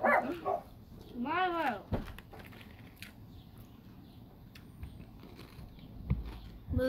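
Dogs barking close by, with a rising whine-like bark near the start and a few short barks, mixed with creaks and background movement.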